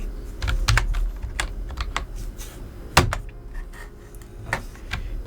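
Someone types on a computer keyboard with irregular, close key clicks and one sharper key strike midway, over a low background hum, with no speech.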